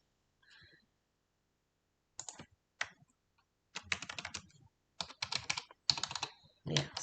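Bursts of typing clatter on a computer keyboard, close and clear, with short rapid runs of key clicks separated by brief pauses and a few isolated taps, alone without talking.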